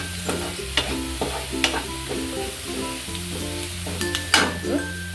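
Bread chilli cooking in a pan, with a steady frying sizzle under repeated scraping stirs of a spoon against the metal and a few sharper clanks.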